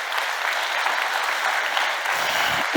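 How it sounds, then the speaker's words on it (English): A conference audience at a design event claps together in a full, steady round of applause, close and even throughout, with a faint extra rustle near the end. "I'd love us if we could just give a quick round of applause to everybody we've heard already today"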